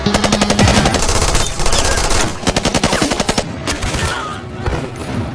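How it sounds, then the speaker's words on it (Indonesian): Loud, close automatic gunfire in rapid rattling bursts from the film The Marine 4, volley after volley with brief gaps between. "Mendengar suara gaduh tembakan, Jack langsung menyadari jika kelompok Andre"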